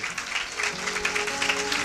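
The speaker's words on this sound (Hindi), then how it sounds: "अब ताली बजाइए" A church congregation clapping during a sermon, a steady wash of many hands under a sustained musical tone that continues throughout.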